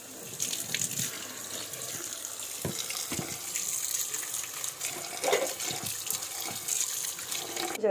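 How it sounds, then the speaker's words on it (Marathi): Soaked wheat being rinsed by hand in a bowl as water runs from a tap, with a steady close splashing and trickling throughout and occasional louder swishes. "आता मी परत एकदा याचं पाणी चेंज करते चांगलं धुवून घेते"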